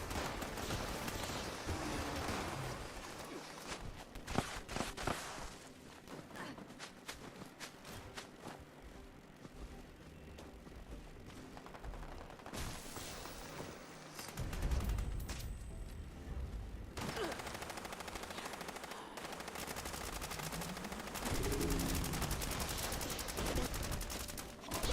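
Video game gunfire crackles in long sustained volleys of rapid shots, fairly quiet and mixed with bursts and booms, continuing steadily without talk.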